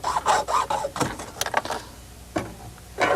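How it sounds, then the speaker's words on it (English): A hacksaw cuts through a car's heater hose with several rough, rasping back-and-forth strokes, close up, the strokes separated by brief pauses. "We're going to use a hacksaw. We're going to cut the hose right about here."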